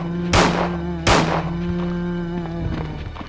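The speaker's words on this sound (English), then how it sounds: "Now, I'm just going to empty out my normal handgun first" A handgun in Resident Evil 2 fires two single shots about a second apart, each a sharp loud crack, over a steady humming game background.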